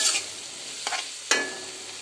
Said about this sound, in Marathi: आता हे पापडी अशी फ्राय करून घेऊया थोडीशी